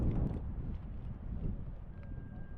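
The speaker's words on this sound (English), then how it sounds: "It's still kind of chilly, windy." Steady wind buffets the microphone on a sailboat heading out to the Isles of Shoals on a chilly day, a loud rumbling roar that stays constant from start to finish with no voices.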